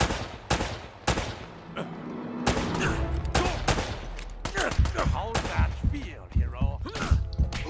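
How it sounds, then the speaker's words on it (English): Gunfire from the Uncharted video game crackles in dense bursts, loud sharp shots and rapid automatic volleys layered with thuds and ringing echoes. "Who's shooting at me?"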